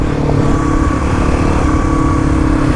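A Kawasaki KLX351 dirt bike tears along a gravel rally road, its engine droning loud and steady throughout, with a harsh rumbling tone and no speech.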